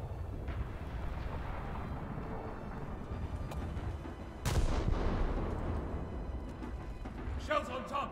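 Heavy naval gunfire from cruisers in World of Warships booms under a steady engine and sea rumble, with one loud salvo midway and further impacts, while someone talks over it.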